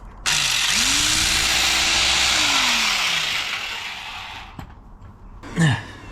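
A power drill bores out and enlarges a hole for a bike ground anchor: a loud steady whine with a rising then falling motor tone runs for about four seconds, tails off, and ends with a brief scrape.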